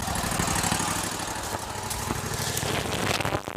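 A cart's engine runs steadily and close by, a continuous rough mechanical drone with a dense low rumble that holds nearly unchanged throughout, with no voices.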